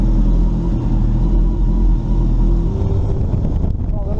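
A Honda CBR motorcycle engine idles with a steady low rumble close by, faint voices underneath and slight revving toward the end.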